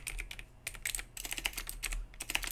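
Quick, close keystrokes rattle on a computer keyboard as C++ code is typed, a dense, uneven patter of clicks with a couple of brief pauses.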